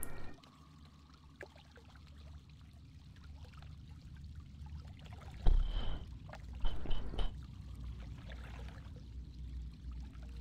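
A World of Warcraft character falls into water in a swampy area, a soft splash and sloshing around mid-clip, with faint game ambience around it.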